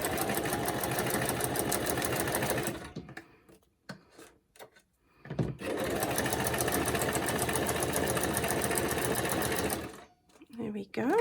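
A sewing machine runs a straight stitch through clear acetate in two long, loud, rapid bursts, separated by a pause with small clicks and handling noises, then stops again near the end.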